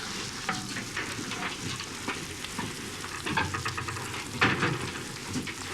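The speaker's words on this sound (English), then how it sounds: "I'm frying them in butter" Eggs sizzling and crackling in butter in a hot pan, with scattered pops and spatters over a steady frying hiss.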